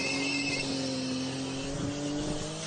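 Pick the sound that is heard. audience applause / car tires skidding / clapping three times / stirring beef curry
car tires skidding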